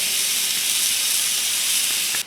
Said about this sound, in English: That steak just sizzling away.